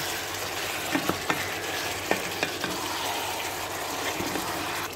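A garlic powder and whole black pepper mixture stirred in a pan while cooking food for iftar, with a constant close sizzle and occasional light scraping clicks from the utensil.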